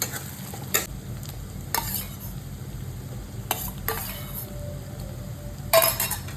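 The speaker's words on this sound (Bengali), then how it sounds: "দেখো পেঁয়াজটা এতটাই ভাজা ভাজা করছে" Onions fry for a mutton curry in a pan, a steady low sizzle broken by a few sharp clinks and scrapes of a stirring utensil against the metal, heard up close without any talking.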